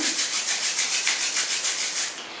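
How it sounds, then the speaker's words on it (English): Palms rubbed briskly together, a close, steady swishing friction with about a dozen even back-and-forth strokes and no talking. "just rub your palms again"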